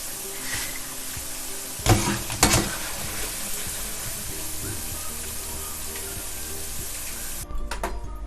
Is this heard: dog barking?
no